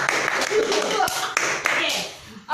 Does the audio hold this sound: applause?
yes